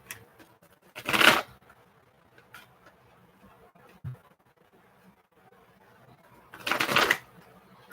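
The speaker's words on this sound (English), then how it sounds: "So I'm just shuffling, by the way." A deck of cards being shuffled by hand in a quiet room, with two distinct riffling bursts about five seconds apart and light handling noises between them, fairly close and clear with no talking.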